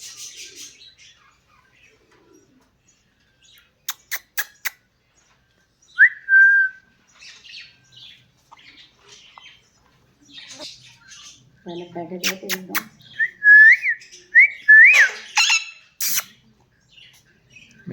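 Female pet parrot whistling up close, short sharp rising whistles and chirps in bursts separated by quiet gaps, with a few squawky calls and a person speaking Hindi briefly in between.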